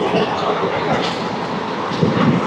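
The 17479 Puri Tirupati Express runs steadily, a continuous loud rumble with rhythmic clickety-clack of wheels over rail joints, heard from aboard the train.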